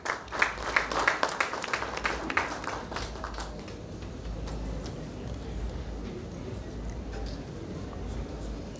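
Applause at a tech summit panel welcoming a panelist, crisp individual claps from a modest audience, strong at first and then thinning out to scattered claps and room noise.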